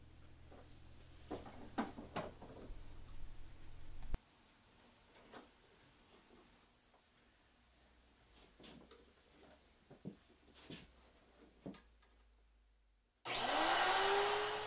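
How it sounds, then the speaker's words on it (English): A woodworking router with a circle-cutting jig sits through a long stretch of quiet handling clicks and taps, then the router motor bursts in loudly and holds a steady, close roar as it shapes a V-groove. "I take care to swing the jig smoothly around at an even rate of feed as the router bit shapes a decorative V-groove"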